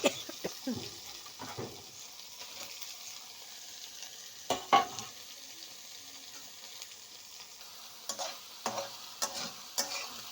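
Soya chunks fry in a pan as a steady sizzle, with scraping stirs and clatters coming in short bursts, loudest near the middle and toward the end.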